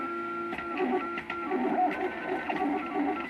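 Stepper motors of a 3D printer humming and whirring at steady pitches while building a print-in-place fidget cube, a continuous close mechanical drone with small ticks and shifts.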